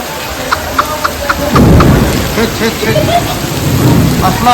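Heavy unseasonal downpour with hail at Killa Dharur, a steady roar of rain on surfaces with deep thunder rumbling up partway through and sharp hail-like ticks scattered across it, close and loud.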